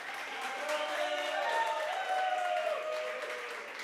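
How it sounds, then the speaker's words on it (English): Applause from a crowd at a school gala ball, with some cheering mixed into the clapping, rising briefly and then fading over a few seconds. "so get a round of applause for Farandas as well"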